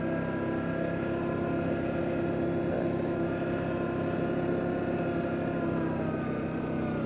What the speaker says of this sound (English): Now this is full throttle coming up this hill here, high range.